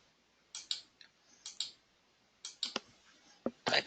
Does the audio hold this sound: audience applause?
no